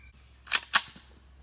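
Two sharp gunshots in quick succession, about a quarter second apart, from a new gun being bump fired with the trigger held down, each crack followed by a short decaying tail over a low steady hum.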